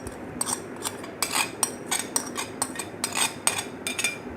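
Cream being mixed by hand in a mixing bowl for a creamy fruit chaat, with repeated clinking scrapes of a utensil against the bowl in an uneven rhythm, close and fairly clear, with no talking.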